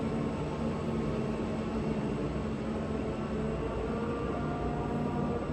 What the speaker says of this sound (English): It's one slow ass train.